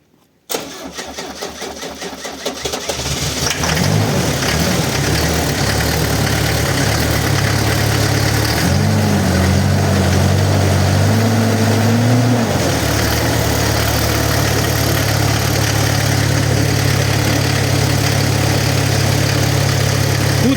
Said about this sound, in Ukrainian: Зараз я зараз я заведу свого челленджера. і покажу, як як вона працює.